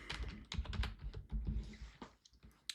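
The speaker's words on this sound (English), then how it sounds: "we're going to type Excel." Someone types on a computer keyboard, a short run of quick, close key clicks with uneven rhythm and a brief pause near the end.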